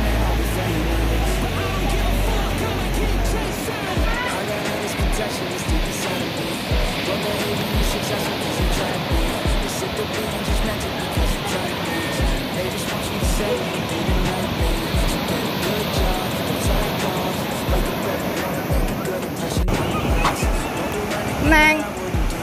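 Surf washes steadily onto the sandy shore of Sambolo 1 beach, a continuous broad rush of breaking waves, with a voice talking over it throughout.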